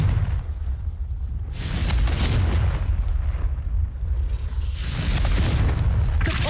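A Confringo blasting spell goes off in Hogwarts Legacy, giving two loud, rumbling booms a few seconds apart, each with a broad crackling burst that fades into a low roar. No one speaks.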